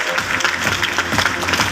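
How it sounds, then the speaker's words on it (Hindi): Audience applause at a business training meeting in a hall in India, a steady dense wash of clapping filling the short stretch without pause. "जोरदार तालियां,"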